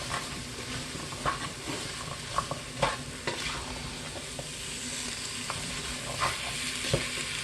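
Peppers and onions sizzle in a pan of roux for a veggie chili and are stirred through it, a steady close hiss broken by irregular scrapes and clinks.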